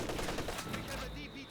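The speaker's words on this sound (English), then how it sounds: "120mm mortar." A 120mm mortar strike in the Company of Heroes 2 war game lands in a dense, booming burst of explosive crackle alongside rattling gunfire, loud and close, with a faint voice underneath.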